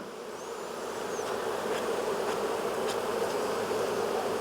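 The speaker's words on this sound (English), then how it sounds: "Got a lot of bees everywhere. Got a lot of bees on my smoker." Honeybees buzz steadily around a hive, a dense continuous drone close by with no voices.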